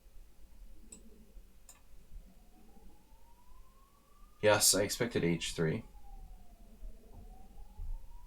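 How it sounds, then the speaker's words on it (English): A faint ambulance siren wails outside, rising and falling slowly in the distance while a clock ticks nearby and someone speaks briefly in the room. "Those ambulances are insane, dude. It just doesn't stop now."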